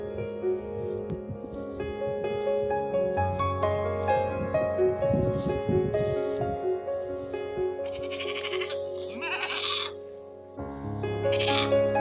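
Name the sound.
goats bleating in pasture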